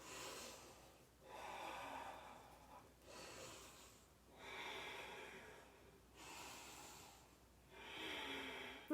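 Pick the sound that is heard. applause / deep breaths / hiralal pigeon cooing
deep breaths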